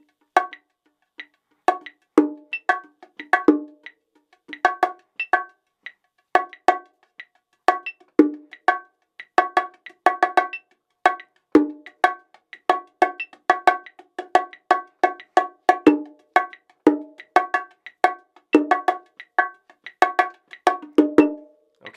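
A solo drum groove with the left hand emphasized over the right, played freely. Crisp, ringing, bell-like percussive strikes come in quick rhythmic clusters, steady and close for about twenty seconds.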